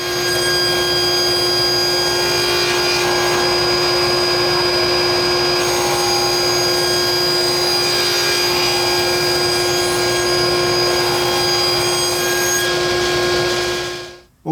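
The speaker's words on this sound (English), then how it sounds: "we're going to take those over to the table saw right now, and we're going to rip them into 2-inch strips" A table saw rips wood scraps into 2-inch strips for vegetable bin face frames, a loud, steady motor whine with a cutting roar that runs unbroken and stops abruptly at the end.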